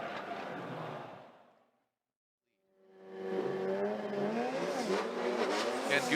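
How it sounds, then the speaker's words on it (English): A Toyota GR86 six-cylinder turbo drift car at a Formula Drift event, its engine roaring loudly, fading out to silence, then building back in with rising revs and tire squeal, heard from near the track. "Monty's Toyota GR86. That 6-cylinder turbo vehicle"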